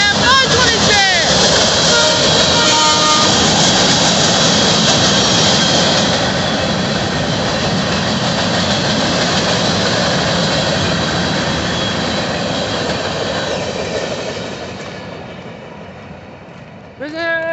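BNSF freight locomotives 556 and 526 leading the Sac local southbound roar past loud and close, a broad engine and rail rumble that holds steady before fading as the train moves away.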